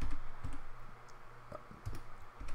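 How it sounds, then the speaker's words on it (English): Scattered clicks of a computer keyboard being typed on with one hand during CAD work, a few separate keystrokes over a low steady hum. "Type in with my left hand here, assembly folder"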